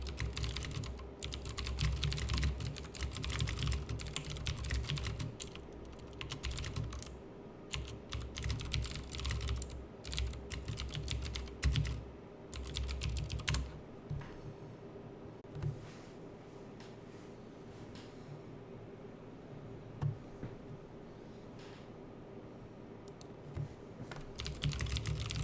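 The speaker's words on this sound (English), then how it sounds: "I guess I could just type that." Rapid typing on a computer keyboard, dense bursts of close key clicks with short pauses, thinning out midway and resuming briefly near the end, over a low steady room hum.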